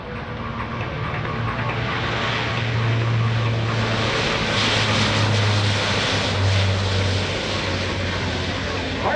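A fully loaded C-130 military transport aircraft takes off at an Air National Guard airshow, its propeller engines roaring loud and steady throughout, with a low droning hum rising and swelling slightly; faint voices mix in beneath the engine noise.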